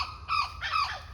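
A bird calls in a garden of a house with mango trees nearby, giving a few harsh, crow-like caws in quick succession at moderate distance, fairly faint, with no voices.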